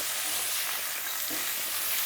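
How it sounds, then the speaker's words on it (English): Steady, close sizzling and crackling of food frying in hot oil, a continuous bright hiss with no voices. "now we have that nice sizzling sound"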